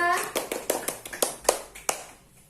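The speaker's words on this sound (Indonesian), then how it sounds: "Tepuk tangan dulu buat Mbak Risma." A small group in a classroom claps unevenly for several beats, the sharp slaps trailing off, with a bit of talk at the start.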